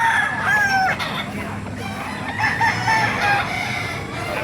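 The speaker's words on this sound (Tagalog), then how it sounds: "Ganda ng mga manok, mga blue spet at saka mga sweater." Roosters crow repeatedly, overlapping one another, amid a constant background of clucking chickens in a busy, noisy flock at a chicken market in Baliuag, Bulacan.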